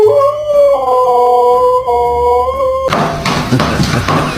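A dog howls in a long, wavering, close-up cry for about three seconds, then breaks off into scuffling and thumping noises.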